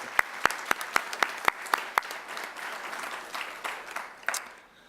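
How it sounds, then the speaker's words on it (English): Applause from an audience at a civic presentation on city resilience strategy, beginning with a series of sharp, evenly spaced claps that spread into a fuller burst of clapping before tapering off, with a little voice underneath. "Let's everybody give yourself a round of applause."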